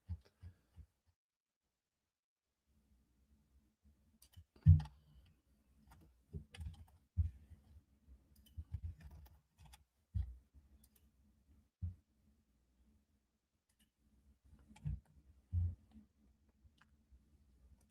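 Sparse keystrokes on a computer keyboard mixed with occasional mouse clicks, quiet and close, arriving in irregular little bursts separated by silent gaps.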